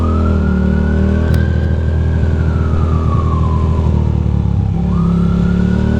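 An ambulance siren wails continuously and loudly on a wet night road between Manhattan and Brooklyn, its pitch sweeping slowly up and down over steady rumbling traffic and rain noise heard from a Ducati motorcycle.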